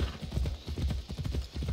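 Horse hooves beat in a quick, steady clip-clop rhythm in Assassin's Creed Odyssey, close and loud with deep thuds and no talk over them.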